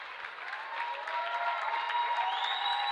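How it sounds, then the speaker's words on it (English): Crowd applause fills a high school basketball gym during a timeout as Holy Cross starters head to the bench, steady broadband clapping that swells slightly and holds through the whole stretch, with no voice over it. "Nice big round of applause"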